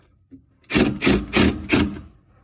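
A screw is driven into a kitchen cabinet during installation, with four short, even bursts of rasping, grinding whir close by and brief pauses between them, and no talking.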